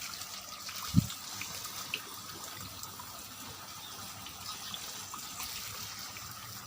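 Water runs into a household shower head in a faint, steady hiss that holds throughout, with one soft thump near the start.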